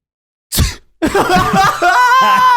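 A single sharp sneeze bursts out, loud and close, followed after a short pause by people talking and laughing.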